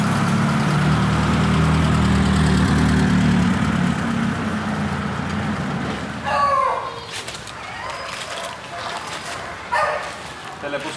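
A 1940 Chevrolet engine idles with a steady low rumble for about six seconds, then drops away, leaving quieter street noise with a few brief sharp sounds and people talking.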